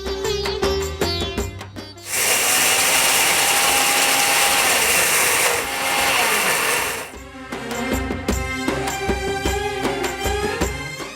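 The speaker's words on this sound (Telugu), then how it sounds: "ఇలా కొంచెం బరకగా ఉండేటట్టు మిక్సీ పట్టుకున్నాను." A kitchen mixer grinder coarsely grinds sago, a loud harsh whirring burst lasting several seconds, with music playing before and after it.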